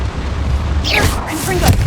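Confringo fire spell blasts in the Hogwarts Legacy video game, a burst of whooshing magical explosions over a constant low game ambience, with bright crackling flare-ups in quick succession.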